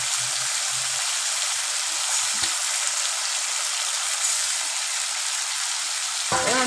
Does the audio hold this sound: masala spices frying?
yes